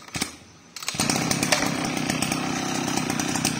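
Makita two-stroke grass cutter, 36cc, starts up after a brief quiet moment and then runs steadily at a loud, buzzing idle-to-rev drone close by, continuing without pause to the end.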